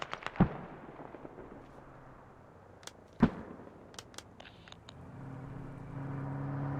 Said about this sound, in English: Their mortars are on tire factory somewhere